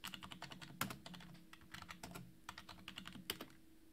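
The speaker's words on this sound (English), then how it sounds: "I'll enter in my card number, but separate each group of four digits with a space." A card number typed on a computer keyboard, quick irregular key clicks in small bursts with a few harder taps, close and fairly quiet.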